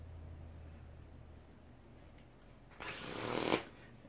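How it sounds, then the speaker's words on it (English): A deck of playing cards is shuffled once in a brief, close riffle lasting under a second, rising and then cutting off abruptly, with near-silence before and after. "I'll take these cards and just kind of give them a shuffle."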